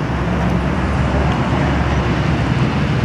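Steady street traffic in Athens, with buses and cars idling and rolling past in a continuous low rumble close by, no clear single vehicle standing out.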